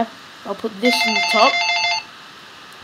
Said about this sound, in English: just then my phone started ringing